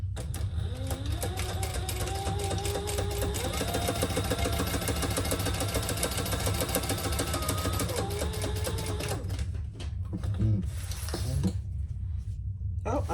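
A sewing machine top stitches a small sling bag, running in a steady, fast mechanical whir close by before stopping near the end, followed by faint handling noises.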